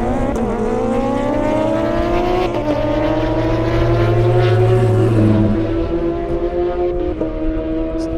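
Hopkins Foundation McLaren race car driving hard on an airstrip, a loud, close engine wail climbing in pitch through several gear shifts before fading as it pulls away.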